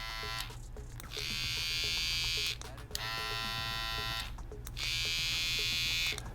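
An electric hair trimmer runs in three steady, loud buzzing bursts, switched on and off with short pauses between them, close to the microphone.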